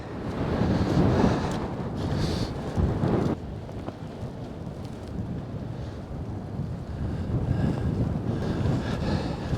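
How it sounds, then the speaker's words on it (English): Strong wind gusting outdoors beside a stream, a loud continuous roaring rumble that swells and eases, buffeting the microphone with heavy low noise and no voices. "That's windy."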